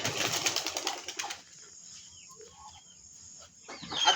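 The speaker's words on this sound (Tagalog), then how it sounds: "habang nagpapalipad po tayo ng ating mga flyers" Racing pigeon flyers released from a loft take off, a burst of flapping wings close by for over a second, then quieter fluttering and a second rush of wingbeats toward the end.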